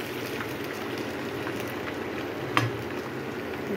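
Food being stirred as it fries in hot oil, a soft, steady sizzle heard up close and fairly quiet, with one brief clink of the spoon partway through and no voices.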